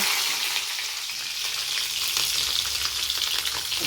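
Cashews fry in a pan with a steady, close sizzle, stirred now and then, with no voices over it.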